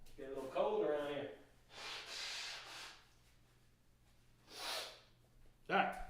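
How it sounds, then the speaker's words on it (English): Someone talks briefly, then blows their nose in two breathy, rushing bursts separated by a pause, with a short voice sound at the end. "let me blow my nose real quick"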